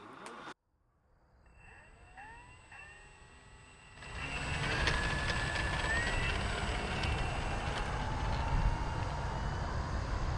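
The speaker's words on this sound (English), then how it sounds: "I wanted to show my friend John putting the plane down just so you could see the scale of this thing" An FMS Corsair 1700mm V3 radio-controlled model plane flies past with a rising, whining electric motor and propeller roar that swells loudly and holds steady, with wind noise underneath.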